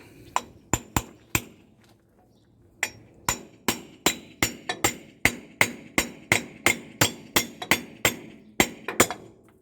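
Sharp metal hammer blows ring out while driving out a wheel bearing, a few spaced strikes first, then a quick regular run of loud clanging hits.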